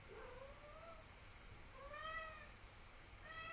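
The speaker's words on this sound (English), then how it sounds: "That's my cat screaming again." A house cat screams in a few drawn-out, rising yowls, heard faintly and at a distance over a quiet background hum.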